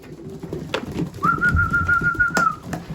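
Racing pigeons in a loft squabble over food, with close cooing, wing flaps and a long, steady whistle-like tone running through the middle of the scuffle.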